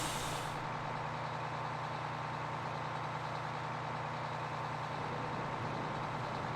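Bus in the video game Disaster Report 4 sits with a steady, low engine rumble and broadband hiss after a short burst of air-brake release at the start, faint and continuous.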